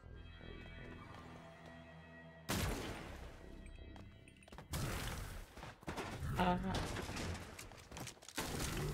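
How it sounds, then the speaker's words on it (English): Loud shotgun blasts and chaotic crashing in the zombie shooter Zombotron, several heavy bursts after a quieter musical stretch, close and harsh with a voice speaking between them. "Shotgun."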